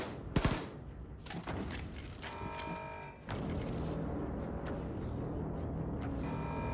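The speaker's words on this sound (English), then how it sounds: "I gotta shoot these dudes before they can throw them at me" Gunfire rattles in the Wolfenstein 2 shooter game as enemies are shot: a loud burst of rapid shots at the start, then more scattered reports over a dense, constant background of game noise.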